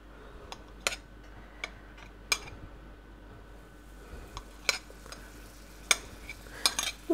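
Flour and butter roux stirred in a pan over a gas flame, with a spoon giving quiet, irregular clinks and scrapes against the pan over a soft background hiss.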